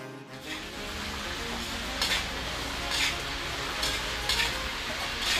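Kway teow noodles stir-fried in a pan at a Kupang eatery, with a steady dense clatter of metal utensil scraping and stirring, loud and continuous, with periodic brighter scraping bursts and no talking.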